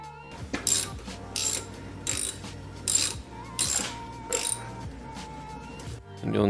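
Repeated ratchet clicking as a 14mm caliper bolt is loosened on a 2015 Subaru Crosstrek during a brake change, about seven short bursts of close, sharp clicks in a steady rhythm with brief pauses between strokes.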